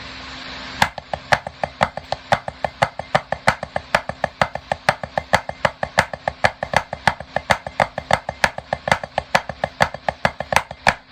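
Single drum strokes played slowly and evenly as a sticking exercise, each hit crisp and close, with a few accented notes in a steady pulse.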